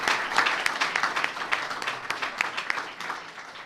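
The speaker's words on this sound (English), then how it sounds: "Let's have a round of applause for each and every one of them." A gathering at a governors' association event applauds the governors' spouses, a brief burst of steady, moderately close clapping from many hands.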